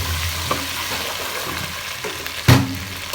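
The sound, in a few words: frying onions stirred with garlic ginger paste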